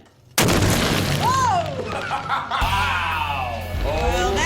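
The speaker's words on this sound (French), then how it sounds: "Objet à l'épreuve des explosions, la table en bois." A blast detonates beside wooden tables in a bunker test zone: a sudden loud boom, a long rumbling roll-off, then a second heavy low surge with crackling debris, while voices laugh and talk over it.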